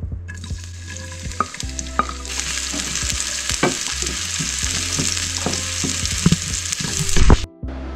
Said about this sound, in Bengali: দুটো শুকনো মরিচ আর পেঁয়াজ দেব, একটু ভেজে নেব আর কি।